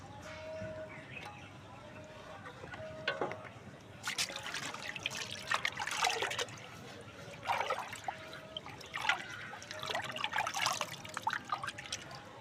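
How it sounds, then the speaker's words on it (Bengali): A plant pot is dunked and rinsed in water after repotting a hibiscus, giving bursts of splashing and trickling water in several separate spells, fairly close, over a low background hum. "তো আপনারা এভাবে জলে চুবিয়ে দিতে পারেন টবটাকে"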